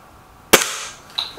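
A Gamo Whisper Sting air rifle fires a single sharp, close crack, followed by a faint metallic tick a moment later as the pellet strikes the target.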